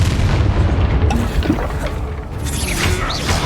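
Incendio fire spell cast in Hogwarts Legacy, a dense, booming burst of magical fire within continuous loud battle noise, with no talk heard.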